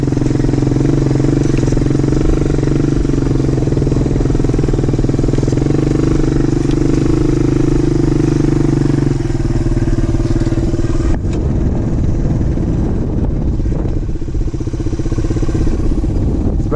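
A motorcycle rolls slowly in first gear along a trail at Pinnacles, California, its engine a steady low close drone with gravelly clatter from the tires, shifting to a rougher rumble partway through.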